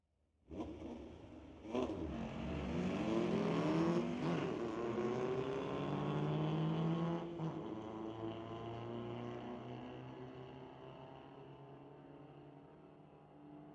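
Two 1971 Volkswagen Beetles launch down a drag strip at a street-legal night at Mission Raceway Park, a loud engine roar rising through revving gear changes, then fading slightly as the cars pull away.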